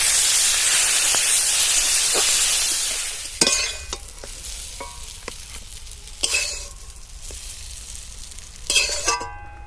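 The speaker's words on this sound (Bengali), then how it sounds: "আমি শিমগুলোও ভেজে নেব।" Green beans fry in oil in a pan with a loud, close, continuous sizzle that fades after a few seconds, followed by several sharp bursts of crackling spatter.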